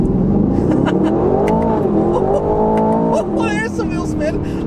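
A 2025 Aston Martin Vantage in manual mode pulls hard in first gear, its engine note climbing steadily in pitch, dipping briefly on a shift, then rising again, with tire noise near the end and a voice talking over it.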